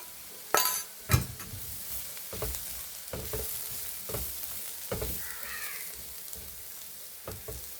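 Chili powder sizzling in a pan with oil and coriander powder for a prawn curry: a soft, continuous frying hiss broken by sharp spoon clinks and scrapes as it is stirred, with no talk.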